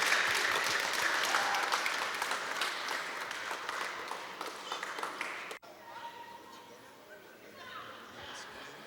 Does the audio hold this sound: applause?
yes